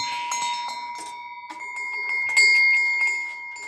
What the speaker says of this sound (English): Take a look at this Solari bell.